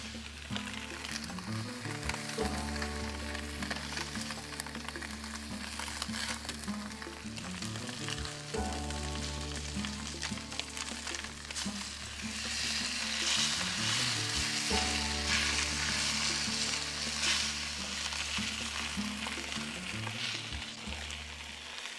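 Dry-aged and control NY strip steaks searing in a hot pan, a loud steady sizzle and crackle of fat that runs continuously, with occasional scraping stirs and a low background hum throughout.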